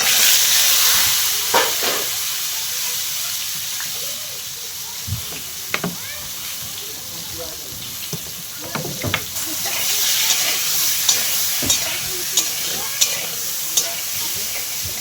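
Eggplant slices in hot oil give a continuous hissing sizzle, close and steady, broken by scattered sharp pops and utensil clicks, with no voices.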